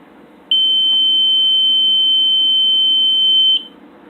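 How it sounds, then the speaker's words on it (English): A single steady electronic beep from a drone flight controller arming, high-pitched and sustained for about three seconds, sounding over a faint background hum. "I'm going to arm it, you'll hear a beep"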